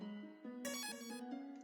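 A phone rings in the video game Undertale as a short, soft electronic tone pattern with bright chiming notes layered over a steady pitched drone. No one speaks over it.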